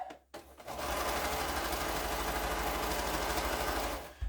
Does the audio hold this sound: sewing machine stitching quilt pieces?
yes